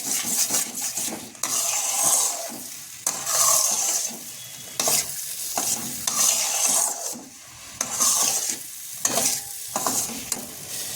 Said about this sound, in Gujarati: આ રીતે હલાવતું રહેવાનું છે. એકદમ ઘટ થાય ત્યાં સુધી હલાવતા રહેવાનું રહેશે.